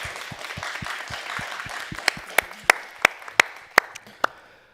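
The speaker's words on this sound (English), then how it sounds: "A big applause for our panelists." Audience applause for the panelists at a session on language, sports and arts: a moderate patter of clapping builds, with a run of sharp, louder individual claps standing out near the end before it fades.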